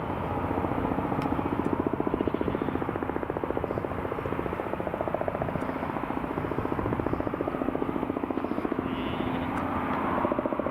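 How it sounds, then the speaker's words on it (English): A Robinson R44 helicopter coming in to land at Newcastle International Airport, its steady rotor chop and engine drone loud and continuous throughout, with no talking. "Robinson R44 just coming in to land now as well."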